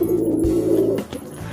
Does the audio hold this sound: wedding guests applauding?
no